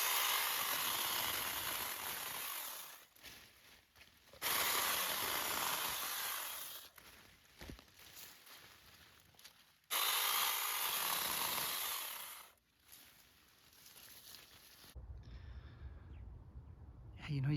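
A Zocabay battery-powered mini chainsaw cuts a laurel branch in loud bursts of steady whining motor and chain noise, broken by brief quieter pauses as it bites through the wood.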